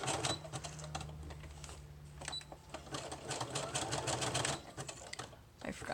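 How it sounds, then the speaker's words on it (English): A sewing machine stitches around a paper piece with a rapid mechanical chatter and hum, in bursts with short pauses between runs, up close. "I'm going to sew all the way around this piece."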